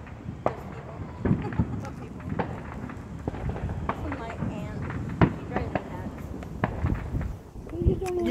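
Fourth of July fireworks pop and crackle in scattered bursts, some close and sharp, others duller and farther off, while people talk nearby throughout.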